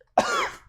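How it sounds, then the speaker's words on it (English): One short, sharp cough, close and fairly loud, fading quickly into quiet. "So many coughs. It's me."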